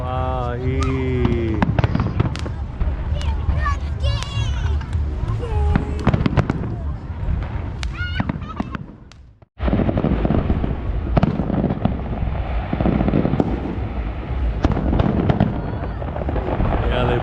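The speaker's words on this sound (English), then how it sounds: "Oh, there it goes, and some of the fireworks started." New Year fireworks burst over a beach, with sharp loud bangs and crackles scattered throughout, a brief dropout partway through, and excited voices and chatter from the crowd underneath.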